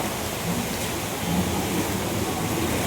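Heavy rain pours steadily at night during the Habagat monsoon season, a dense, continuous hiss of drops on surfaces, loud and close with no break.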